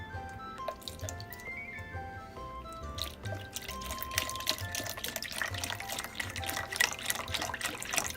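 Beef-flavored broth poured into a cooking pot for bangers and mash, a steady close trickle and dribble of liquid with light splashing that builds and thickens toward the end, no talking over it.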